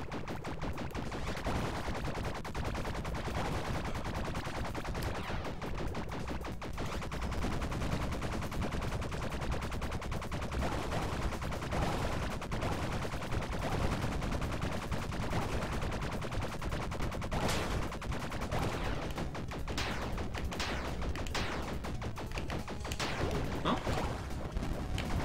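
Video game gunfire aimed at a spawn point: dense, relentless bursts of rapid shots and machine-gun fire layered with crashes, sustained loudly throughout, with occasional voices beneath.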